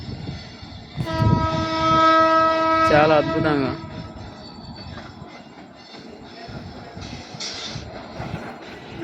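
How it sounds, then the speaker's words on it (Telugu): A train approaching Warangal railway station sounds a long loud horn blast over rumbling wheels, then the rumble fades while a person speaks briefly. "ట్రైన్ వస్తుంది దూరం నుంచి"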